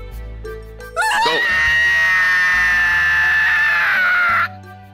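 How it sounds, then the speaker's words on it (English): A character in the visual novel game Clannad lets out a long, loud scream while being dragged away. The wail is held for several seconds and bends downward at the end, with brief voice and game sounds just before it. "He leaves a trail of screams as he's dragged away."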